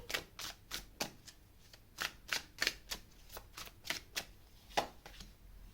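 Tarot cards shuffled by hand for a reading, a series of crisp riffling bursts about every half second, close and fairly quiet with no talking.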